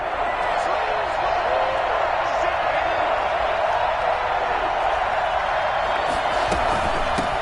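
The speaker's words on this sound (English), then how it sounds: "the crowd getting into it as we come up on a big 3rd down" Stadium crowd in the video game Madden 21 keeps up a steady, loud roar of cheering ahead of a big third down, with clapping and sharp bangs rising through the dense wash of noise.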